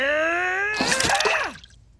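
Cartoon robot's broken soda water sputters out in a short burst of bubbly, gurgling drips and splatters, ending in quiet, right after a tonal whine.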